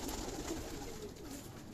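Pigeons coo briefly and faintly over a steady background hiss, a short soft murmur lasting under two seconds.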